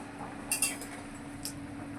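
A metal lid comes off a pot of simmering potato and cauliflower curry, giving two quick clinks near the half-second mark and another light knock later over a low kitchen hum.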